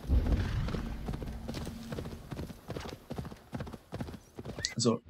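Horse hooves clip-clop in a steady rhythm while riding in the Assassin's Creed Valhalla video game, with a brief whinny near the end and someone talking over the hoofbeats throughout.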